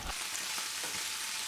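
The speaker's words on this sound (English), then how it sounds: "Add some fresh chilies and capers and fry off for a minute or 2" Anchovies, olives, fresh chilies and capers fry in a pan, giving a soft continuous sizzle with faint crackles and stirring scrapes, fairly quiet and steady.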